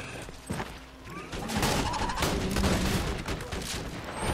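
Shotgun fire and explosive combat effects from the video game Borderlands 2 during a boss fight, a dense run of loud, overlapping blasts and thuds that builds after the first second and keeps up to the end.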